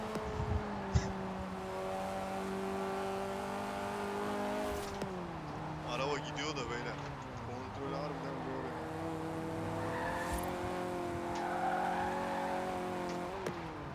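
Fiat 131 in Forza Horizon 4 holds a steady engine drone with gear changes and revving, with tires squealing midway through, under someone talking.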